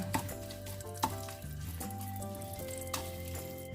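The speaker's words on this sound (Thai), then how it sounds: "เราก็มาผัดพริกแกงนิดนึงนะคะ" Thai curry paste stir-frying in a little oil, a low sizzle under clanking utensils and a few sharp knocks against the pot, with faint music in the background.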